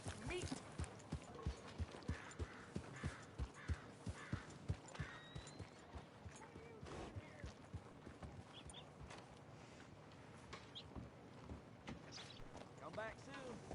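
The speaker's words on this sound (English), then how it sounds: "That's a good horse." A horse in the video game Red Dead Redemption 2 walks with steady, evenly spaced clip-clop hoofbeats, fairly close and rhythmic, under intermittent character talk and background ambience.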